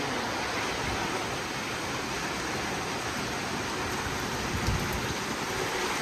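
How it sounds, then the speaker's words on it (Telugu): Heavy rain pours down in a dense, steady roar of drops, close and loud, with no pauses throughout. "వర్షం అయితే ఇట్లా పడుతుందండి మా ఊర్లో"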